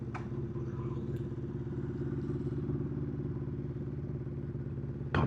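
A 1979 Honda CB750F Super Sport motorcycle idles and rolls slowly toward a stop, its steady mid-pitched engine rumble loud and close throughout with light clatter and no speech.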